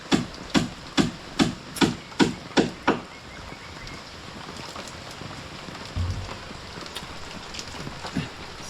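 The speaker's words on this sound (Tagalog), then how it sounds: "Sablay naman yung ulan na to." Steady rain hisses down over an outdoor boat-building site, following a quick run of sharp hammer knocks at the start, with no talk.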